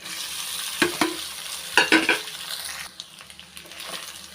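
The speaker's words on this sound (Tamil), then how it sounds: "இப்போ வந்து சாதத்தை சேர்த்துக்கிறேன்" Cooked rice stirred into fried small onions in a kadai: a few scraping spoon strokes and clinks over a soft, steady sizzle, close by with no talking.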